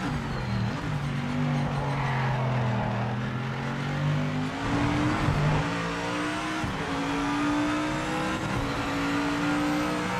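An AMG race car engine in the racing sim Project Motor Racing howls loudly and continuously, rising and dropping through gear changes with occasional tire squeal, steady and close throughout.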